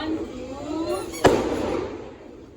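Firecrackers go off outdoors, with one sharp, loud bang in the middle that rings out briefly, over a steady background hiss and nearby voices.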